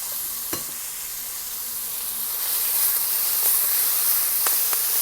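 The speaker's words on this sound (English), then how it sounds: "I just want to saute that until the onions get nice and translucent" Onions sautéing in salted butter for cheesy beef macaroni make a steady hissing sizzle that swells to a louder, broader spatter after a couple of seconds, with a few faint clicks of stirring.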